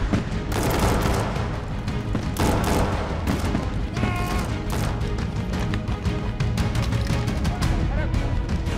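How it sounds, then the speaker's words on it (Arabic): Dense gunfire bursts from an armed-attack scenario at an embassy during a security exercise, sharp repeated cracks and booms rolling continuously over a loud, busy background for the whole stretch. "أسمع اطلاق نار"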